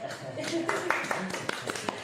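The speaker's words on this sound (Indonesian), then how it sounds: "Tepuk tangan untuk Bapak berdua." A small group claps for two participants during an academic supervision coaching session, with scattered, fairly soft claps over ongoing talk.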